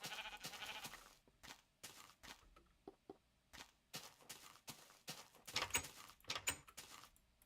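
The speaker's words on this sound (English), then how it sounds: "Sheep, get off my farmland!" Sheep bleating in Minecraft Beta 1.7.3, a series of short, separate game bleats and soft thuds spread across a quiet stretch with no talking.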